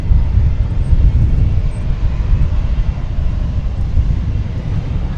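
American Airlines flight 1953 roaring down the runway on takeoff at DFW Airport, a loud, steady jet rumble with heavy low-end power and a broad hiss, continuous and close throughout.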